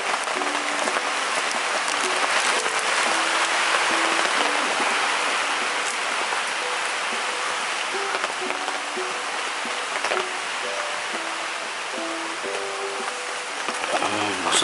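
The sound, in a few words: heavy rain falling at a campsite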